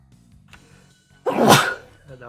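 A single loud, abrupt sneeze bursts out after a quiet stretch, voiced by a person in a spoken game commentary, likely an imitation, with a short breathy tail fading afterward.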